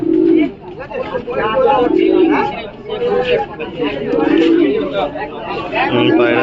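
High-flying Madrasa pigeons on Galiff Street in Kolkata coo in repeated low, rolling calls, close by, while people chatter loudly over them throughout.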